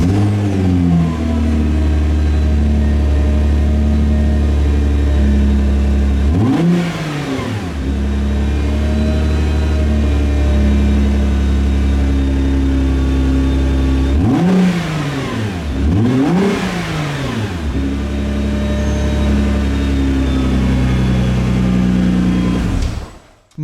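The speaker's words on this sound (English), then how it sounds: "Let's now hear how Nismo sounds." Nissan GT-R Nismo, 2019, engine and exhaust idling loudly up close with three sharp revs, a single burst then two in quick succession, each rising and falling before settling back to a steady idle.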